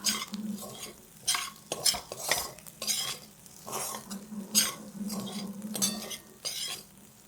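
Moong dal roasted on low flame is stirred steadily in a pan, repeated rhythmic scraping strokes with light clinks and a faint sizzle underneath.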